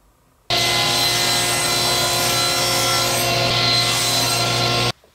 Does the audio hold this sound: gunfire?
no